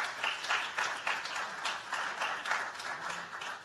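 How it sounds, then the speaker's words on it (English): An audience at a public program applauds steadily, a dense wash of many hands clapping at moderate loudness with no talk over it. "So if we can give them a round of applause for helping us put on this program today."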